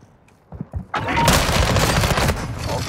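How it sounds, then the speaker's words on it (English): Gunfire erupts in Call of Duty DMZ after a few faint clicks, with a sudden loud blast of shotgun fire that stays dense and sustained, echoing as a continuous barrage. "A shotgun."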